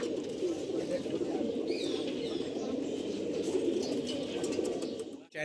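Army-panel racing pigeons coo continuously in a loft, a dense layered murmur of many birds close by with occasional higher chirps.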